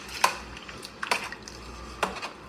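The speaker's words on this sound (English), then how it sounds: "I can give that a stir around" Seafood gumbo being stirred in a pot, a few scattered clinks and scrapes of a utensil against the pot, fairly quiet and close, with no talking.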